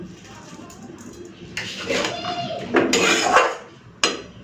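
Boiled vegetables stirred with a spoon in a metal pot after a little water and sugar go in, giving close scraping and sharp clinks of utensil on metal in uneven bursts.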